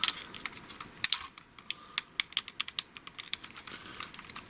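Plastic parts of a Transformers combiner toy, Zeta Blitzkrieg (an Onslaught figure), click and snap as it is folded and tabbed together: a quick, uneven series of sharp, close ticks with no talking.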